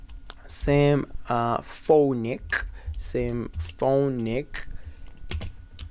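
Keys on a computer keyboard clatter in short bursts while a person talks over them, the typing close and moderately loud.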